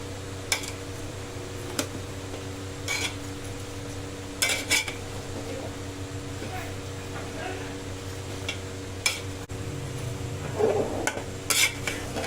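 Onion and mutton sautéing in a pot over a medium flame for mutton korma, with a steady low cooking hiss and sporadic metal clinks and scrapes of stirring at moderate level.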